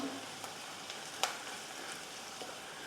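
Green chillies with coriander powder frying in a pan, a soft, fairly quiet sizzle with a few light stirring clicks and one sharper utensil tap.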